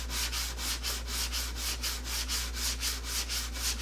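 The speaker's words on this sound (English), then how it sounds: "Once it's dry, it sands like butter." Dried Superfill filler being sanded by hand with sandpaper, a steady back-and-forth rasping scrub in even strokes about twice a second, close and continuous with no talking.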